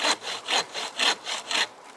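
A cheap dollar-store bucksaw cuts through wood outdoors in about five even back-and-forth strokes, each a rasping, gritty rush. The sawing is close and alone.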